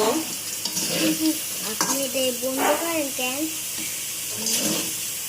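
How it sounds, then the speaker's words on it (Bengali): Potatoes frying in hot oil give a steady, close sizzling hiss throughout, with a person talking over it at moderate level. "এই যে আলুগুলো ভাজা শেষ হয়ে গেছে এখন আমি এগুলো তুলে নিব"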